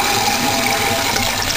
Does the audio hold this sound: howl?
no